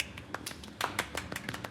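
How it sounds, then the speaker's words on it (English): Light, quiet golf clapping: a few sparse, soft claps at an uneven pace, close by, with no talking. "Oh, you give her a golf clap."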